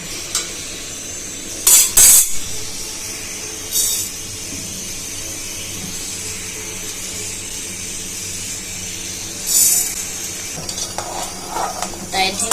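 Hot food being stirred in a pan during a kids' cooking competition, a steady sizzle with a few sharp scraping clinks of utensil against metal, close by.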